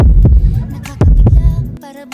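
Rapid heartbeat effect, a loud close thumping in quick double beats repeating about every three quarters of a second, deep and booming, cutting off near the end.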